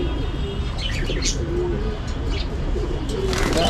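Male pigeons coo in soft, repeated low calls close by, with a few light chirps and wing sounds mixed in over a dull background murmur.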